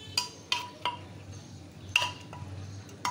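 A spoon stirs mutton fat into dal inside a pressure cooker, giving several sharp metallic clinks and scrapes at irregular intervals over a low steady hum, close and fairly quiet.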